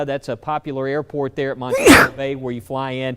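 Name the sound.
sneeze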